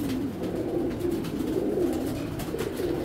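A red checker racing pigeon, a young 2025-banded cock, coos steadily and close by, a continuous low murmuring call with no talk over it.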